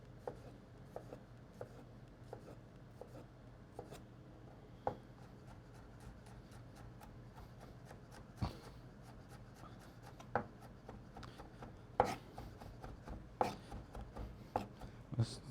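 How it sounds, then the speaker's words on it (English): A single garlic clove is chopped with a knife on a board in quick, light, irregular taps. The sound is quiet and close, with the strikes growing denser toward the end. "I'm going to chop a little garlic here real quick"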